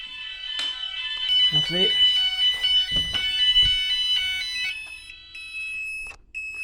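A Gent Vigilon home fire alarm system sounds during a test, a loud continuous high-pitched electronic tone running throughout, with people talking and handling noises underneath.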